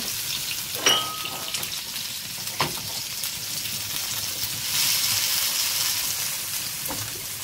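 Onions tipped into hot oil in a home kitchen while cooking yam and egg sauce, giving a steady close sizzle and crackle with a couple of sharp clinks of a utensil against the pan.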